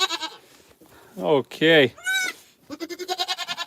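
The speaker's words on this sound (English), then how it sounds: "We are just here with a couple freshly born baby goats." Newborn baby goats give several short, high, wavering bleats close by, followed by a rapid run of quick stuttering bleats, with a person speaking briefly between them.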